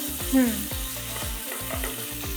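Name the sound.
ginger, chili and garlic paste sizzling as it is added to the pan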